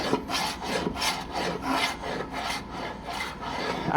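A Stanley No. 40 scrub plane with a freshly sharpened edge is pushed one-handed across wood. Each stroke gives a rhythmic, rasping shave, with several strokes at a fairly close, moderate level and no talk.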